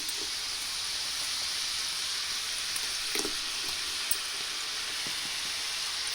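Cheesling dough snacks deep-frying in hot oil give a steady, even hiss of fine bubbling that carries on throughout, with a few soft pops and light clinks near the middle.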